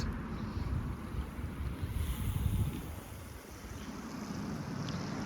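A steady, low rushing of flowing water carries on throughout, like a small stream, mixed with some wind buffeting and no voices.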